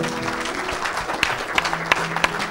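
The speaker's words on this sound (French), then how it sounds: "Acclamons le Seigneur." A church congregation breaks into lively applause, a dense wash of clapping with sharp individual claps standing out, steady throughout.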